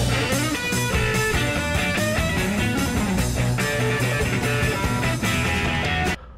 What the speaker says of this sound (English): there's a slow bluesy phrase, which is followed immediately by these right-hand harmonics that give the notes extra attack